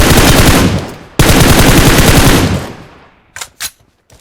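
Sustained automatic rifle fire in the BGMI battle royale game, a loud continuous burst that cuts off briefly, resumes, then fades into two short separate shots near the end.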